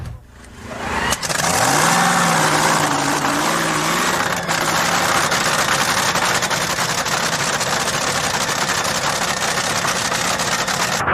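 A Sunoco Ultra top fuel dragster engine bursts to life and revs hard, then holds a deafening, steady roar up close for several seconds.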